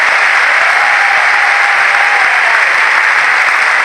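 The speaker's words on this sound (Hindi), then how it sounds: "एक बार हम सबको मिलकर के बहुत जोरदार तालियों से यूएस का धन्यवाद करना चाहिए" An audience at a large RCM Next Generation event claps loudly, a dense, continuous wall of applause lasting about four seconds with no pauses.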